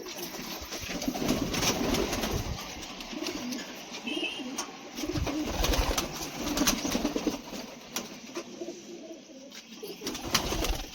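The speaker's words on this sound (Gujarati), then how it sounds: "બધા કબૂતર બહાર આવી ગયા છે." Pigeons leaving a home coop fill the space with continuous overlapping cooing, close and moderately loud, with a faint voice now and then underneath.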